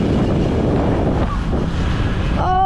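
River water rushes along the Padol River in Quezon, Nueva Vizcaya, as a loud, broad, continuous roar mixed with wind buffeting the microphone, close and steady throughout, with a brief tonal sound near the end.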